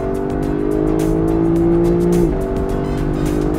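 A Lexus LC500 convertible with its roof open, engine droning loud and steady with a pitch dip as it shifts, heard from on board with road and wind noise.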